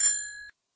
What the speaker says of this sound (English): Bicycle.